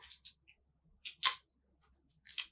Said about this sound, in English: So I'll pull this tape up